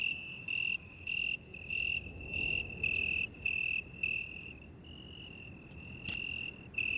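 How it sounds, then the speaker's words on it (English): Crickets chirp steadily in regular pulsed bursts, a bright, high trill repeating about every half second against a quiet night background. "The chirping sounds of crickets fills the night air."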